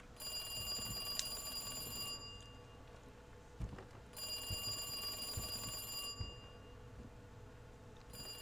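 In Resident Evil 2 Remake, a telephone rings in two bursts of about two seconds each, separated by a pause, with a third ring just starting at the end, all over a low background rumble and soft thuds.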